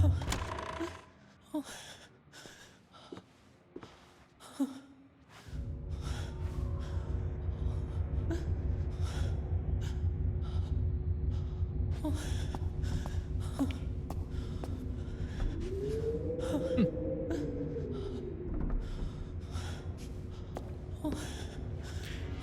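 Heavy, ragged breathing from a horror video game, with gasps and wheezy sighs repeating over a low droning ambience and occasional thuds, steady and close throughout.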